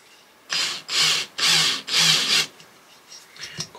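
Four rough, grinding bursts of a hand drill bit chewing into wood for a bushcraft pot hanger, each lasting about half a second with short pauses between, close up, followed by faint scraping.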